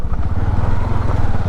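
Motorbike ridden along Hamsaladeevi beach in the rain, its engine a steady, loud, close drone with rumbling low throb throughout, no pauses and no talking over it.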